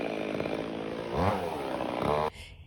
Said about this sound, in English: they're going to cut down the limbs of the tree and cut the base of the tree